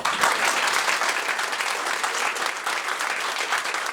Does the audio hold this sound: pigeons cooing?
no